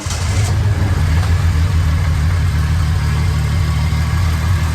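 A Triumph TR-6 barn-find engine, recently restarted after decades, idling loud and close with a steady, even low rumble that holds throughout.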